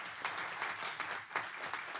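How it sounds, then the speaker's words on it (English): A city council meeting audience in Gardena gives sustained applause for new commissioners, an even roomful of clapping with a few louder claps standing out and no speech. "let's give our three new commissioners a big round of applause."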